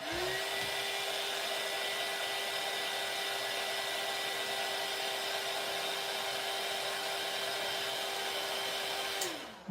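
A hair dryer blows over a watercolor painting, a steady close whirring drone that runs unbroken for nearly ten seconds and cuts off at the end.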